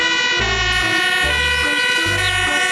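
Toy fire truck siren sounding continuously, a bright electronic wail layered with harmonics, with three low thumping pulses recurring beneath it, loud and close throughout.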